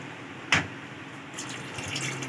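Water poured into a simmering chicken and potato curry in a pot, a short splash followed by a soft liquid trickle and gentle bubbling, close and quiet with no talking.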